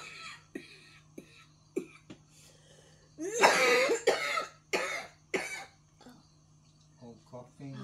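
A person coughs repeatedly, with short single coughs followed by a louder cluster of harsh, chesty coughs and then a few softer ones.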